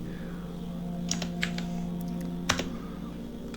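A few scattered keystrokes on a computer keyboard while typing into a search box, soft clicks over a steady electrical hum.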